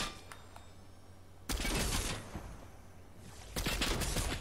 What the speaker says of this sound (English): I've got someone shooting at me.